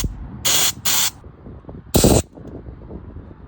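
Three bursts of cleaner sprayed through the carburetor of a wood chipper, two short hisses close together then a longer one, loud and close, with faint handling noise between them and no talk.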